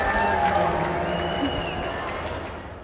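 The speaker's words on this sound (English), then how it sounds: "Here's your applause." Steady applause from a crowd at the gamescom award show, a dense continuous wash of clapping that slowly fades, with faint voices and tones mixed underneath.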